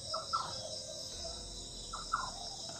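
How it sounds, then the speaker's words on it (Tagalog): A strange call heard at night in the mountains, likely a bird: a few short, faint chirping bursts in two clusters against a steady insect and cricket hum, with no talking. "May boses na kakaiba. Pero sa tingin ko ibon yan."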